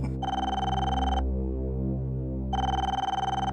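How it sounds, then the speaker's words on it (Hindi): A telephone rings in two bursts of bright electronic trilling separated by a quiet gap, over a low steady hum. "फोन बज रहा।"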